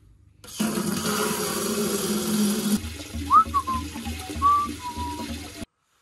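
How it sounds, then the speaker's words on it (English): Water rushes from the drain valve of an old residential water heater in a crawlspace, a steady loud gush that changes after a few seconds into a gurgling flow with brief squeaky tones before cutting off abruptly. "I'm gonna drain the old water heater."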